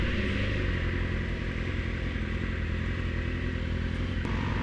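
A Yamaha R6 sport motorcycle accelerates on the road, its engine a loud, steady, high-revving drone mixed with strong wind rush, holding constant throughout.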